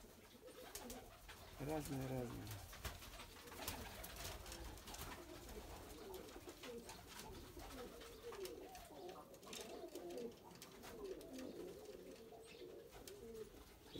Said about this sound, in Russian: Видишь, какие коричневые голуби.